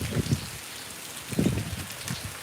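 Heavy rain has been pouring for over an hour near Khambhalia in Gujarat, a steady close hiss broken by louder bursts of drops, with no voices.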